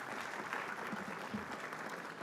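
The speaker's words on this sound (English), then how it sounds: "Let's get a round of applause to them." Audience applause at a coding competition's final tournament award, a steady dense wash of clapping from a crowd lasting a couple of seconds without voices.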